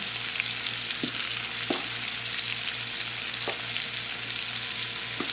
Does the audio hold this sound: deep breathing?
no